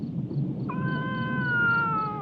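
A cat gives one long, drawn-out meow that rises and holds for over a second, fairly close and clear above a low rumbling room background.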